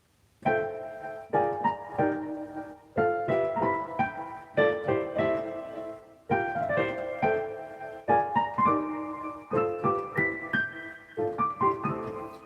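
The studio recording of a song plays, layered melodic instruments in rhythmic phrases with short pauses, full and polished, no talking.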